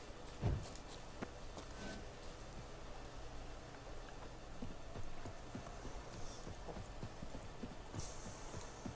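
Horse hooves in The Witcher 3 video game, a steady clip-clop of walking steps at moderate volume over a low, constant background hum, with no talking.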